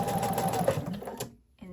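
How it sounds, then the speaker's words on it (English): A sewing machine stitches through denim from upcycled jeans, its motor whirring steadily for over a second before stopping abruptly, followed by a brief quieter mechanical sound. "So I'm going to start sewing right here with a fixed stitch or a back stitch"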